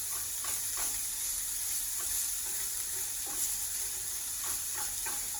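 Onions sauté in a pan for butter chicken with an even, hissing sizzle throughout, broken by brief scraping stirs, close up and with no talking.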